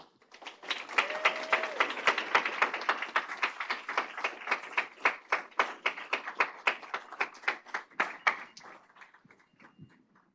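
An audience at the Hudson County Community College 2024 convocation claps to welcome a speaker, with a rapid run of individual claps rising quickly, holding steady for several seconds, then thinning out and fading.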